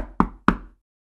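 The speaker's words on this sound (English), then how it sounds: "Wait, wait. I think someone is on the door." Two sharp knocks on a door about a quarter second apart, close and crisp with short resonant decay, followed by silence.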